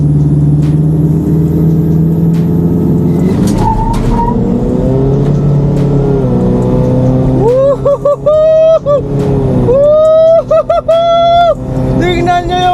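A modified Toyota Fortuner sleeper build on big tires accelerates hard with a deep, continuous engine rumble, rising tones as the revs climb, and a voice talking over it near the end.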